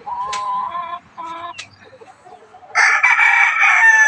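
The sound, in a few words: gamefowl rooster crowing, Kanawayon Hatch RRC line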